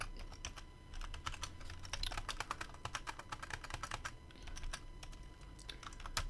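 Typing on a computer keyboard with presses of the enter key, a quick, uneven run of clicky keystrokes, close but fairly quiet, with brief pauses between bursts.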